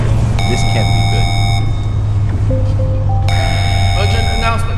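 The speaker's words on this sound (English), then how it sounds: "Okay, the alarms have been triggered." Electronic alarms sound during a power loss in a video game facility: repeated high bursts of steady beeping tones in two long runs, over a low hum with a brief lower tone sequence between them.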